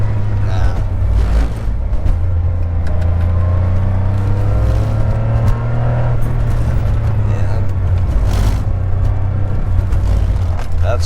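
Porsche 911SC engine pulling hard in second gear on a canyon road, a loud, steady low rumble that builds throughout, heard from inside the car with people talking over it.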